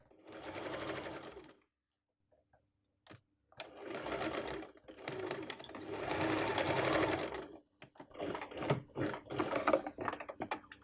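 A sewing machine runs in several bursts as it stitches a zipper into a patchwork quilt, close and steady with short pauses between runs.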